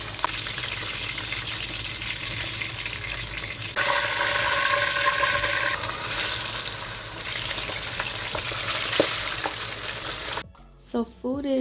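Red snapper fries in hot oil for Jamaican escoveitch fish, a loud, close, continuous sizzle that swells partway through. A brief clatter of handling and quiet ends it.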